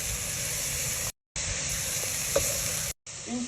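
Onions and blended coriander fry in a pan with a steady, close sizzling hiss, broken by two short silent cuts and one small clink; no voices.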